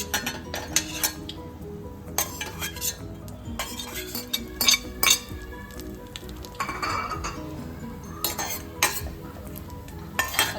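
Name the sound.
cashew pieces being sautéed and stirred in ghee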